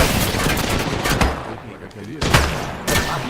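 Rapid gunfire bursts from enemies in the Apex Legends video game, loud and dense and overlapping, with a player talking over the shooting.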